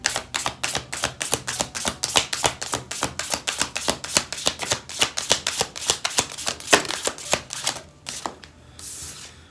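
Tarot cards being shuffled in a quick, regular run of crisp riffling snaps, close and fairly loud, roughly four per second for about eight seconds before a brief soft rustle.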